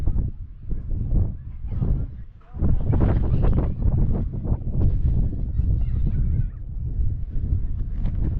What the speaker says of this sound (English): Now, it's gonna be windy, guys, okay?